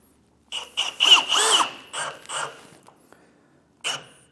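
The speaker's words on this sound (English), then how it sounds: "But we can pop that second screw in." A power drill drives a screw into a vehicle roof during a backup camera install, several short bursts of whirring with brief pauses between them and a final quick burst after a gap, close by and without talk.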